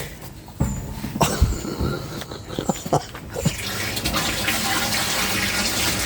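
Water pours and splashes continuously while rinsing out a motorhome toilet cassette, starting with a few sloshes and thuds then settling into a steady, fairly loud gushing rush.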